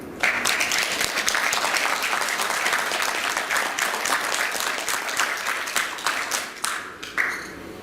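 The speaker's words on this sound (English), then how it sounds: "do they deserve a clapping hand?" An audience at a presentation bursts into loud, close applause, many hands clapping in a dense crackle that thins out into scattered claps near the end; a voice briefly murmurs underneath.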